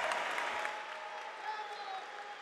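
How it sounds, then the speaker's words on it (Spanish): Crowd applause at a live MMA event in Monterrey, México, a steady wash of clapping and crowd noise that holds at a fairly even level throughout, with a sustained tone running beneath it. "¡Aplauso, Monterrey!"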